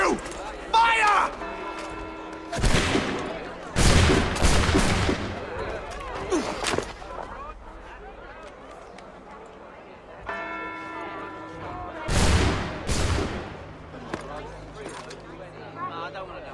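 Musket volleys in Assassin's Creed 3, a couple of loud cracking bursts of gunfire separated by quieter stretches with tolling tones and speech in between.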